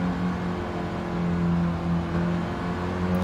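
Small classic Mini race cars, '65 Minis on skinny tyres, lapping Suzuka in a racing video game, their engines a steady droning buzz that holds loud and even throughout, with no voices over it.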